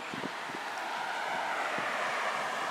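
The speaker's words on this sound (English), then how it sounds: "The wind's buffering" Wind buffets an outdoor microphone in a steady, rough broadband rush that fills the whole stretch, with a few low thumps as gusts hit and no talking.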